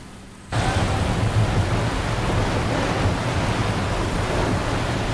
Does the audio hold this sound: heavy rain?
yes